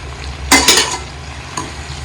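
Green chilli pickle stirred in hot oil over a low gas flame, giving two quick scraping stirs with a burst of sizzle near the middle and a softer stir toward the end over a steady background hiss.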